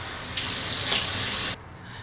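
Lukewarm water gushes steadily from a sink tap, loud and close, then cuts off abruptly, leaving a faint room hiss.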